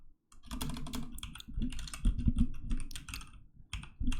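Fingers type on a computer keyboard in quick, close clusters of clicks and key thumps, continuing in uneven bursts with short pauses between them.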